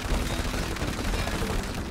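Big guns fire in It Takes Two as a continuous, loud, rapid stream of heavy shots with no pause across the short stretch.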